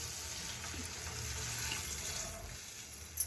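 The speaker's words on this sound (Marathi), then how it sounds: "आता याच्यावर जाईल पाणी" Water pours steadily into a cooking pot at home, a soft continuous splashing stream that ends with a small clink.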